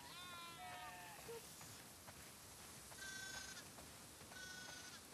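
Several sheep bleat in The Last of Us Part 2 at a snowy barn, with a few wavering calls early on and two more bleats later, heard faintly over a steady rain-like hiss of ambience.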